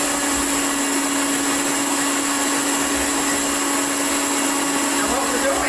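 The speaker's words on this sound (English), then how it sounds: "You just turn your Vitamixer on high" A Vitamix blender with a dry grains container runs on high, grinding quinoa, millet and amaranth into flour with a loud, steady, unbroken motor whine and gritty rattle.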